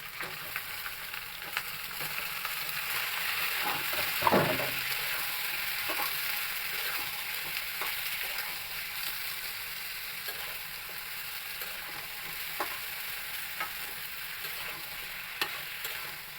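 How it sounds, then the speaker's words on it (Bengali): Raw banana frying in oil with ginger-garlic paste and spices, a soft, steady sizzle with faint crackles and one brief louder clatter of stirring partway through. "তারপর আমি কাঁচা কলাটা তেলের সাথে ভালো করে ভেজে নেবো।"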